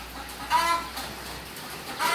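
A Kadaknath black chicken clucking nearby, a few short throaty calls in a farmyard with a steady hiss behind them and no talking.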